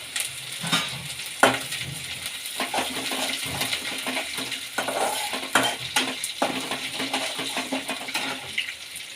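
Green chillies and curry leaves crackle and sputter in hot oil, loud bursts of popping over a steady sizzle with spoon clinks against the pan, up close and without talk.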